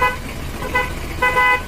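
A repaired car horn sounds in three short honks with a gap between each, loud and close by. No other noise and no talk.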